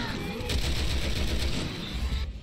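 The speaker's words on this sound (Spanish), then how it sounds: "es que llevan ametralladoras" Machine gun fire in the video game Resident Evil 6 rattles out in a rapid, loud continuous burst of shots that stops abruptly near the end.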